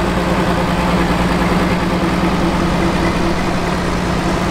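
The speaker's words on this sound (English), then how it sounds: "Here's an 856 Wheatland tractor." An International Harvester 856 Wheatland tractor engine runs at a steady, low idling rumble, close and continuous with no talk over it.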